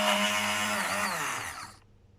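A blender purees spinach with oil for a green cake batter. Its loud motor whine sweeps downward as it slows and cuts off, leaving silence for the last moment.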